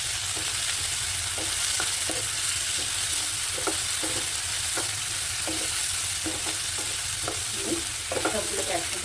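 Kudri makhani mixture sizzling in a pan while being stirred, a constant close frying hiss with irregular spoon scrapes and taps throughout, no talk.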